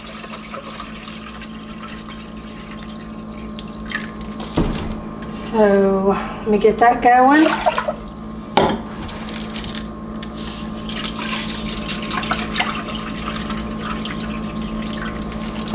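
Purified drinking water for a kombucha batch runs steadily into a pot, a continuous close splashing pour under a man's brief speech, with a few louder clunks partway through.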